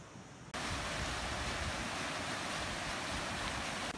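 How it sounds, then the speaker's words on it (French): Water rushes steadily over rocks, a loud continuous broadband wash that starts abruptly after a brief quieter moment; a stream flowing through rock in Morocco. "Je longe enfin le cours d'eau qui coule à travers la roche."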